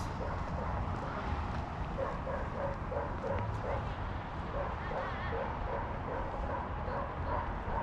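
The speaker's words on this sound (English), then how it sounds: "Dog barking in the distance." A dog barks repeatedly in the distance near the Champlain Monument in downtown Plattsburgh, New York. The short yips sound faint and rhythmic over a constant outdoor background rumble.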